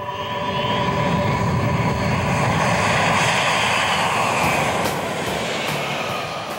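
A C-17 military transport aircraft lands in a broad, loud roar of jet engines. It stays steady and heavy from start to finish, with some tonal whine over the rumble, and no one speaks.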